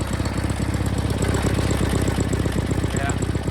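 Sears GT18 lawn tractor engine idling loud and close with its drive belt spinning, a dense, steady low mechanical rumble with rapid regular pulsing throughout.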